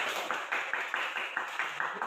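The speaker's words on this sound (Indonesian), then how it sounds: "Ya, tepuk tangan dulu." A small group in an Indonesian classroom claps in a rhythmic pattern, about ten evenly spaced sharp claps at a brisk steady pace, moderately near and fairly quiet, with no talking over it.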